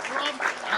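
Applause and clapping during a live stream, a brief continuous patter of claps lasting under a second with no break.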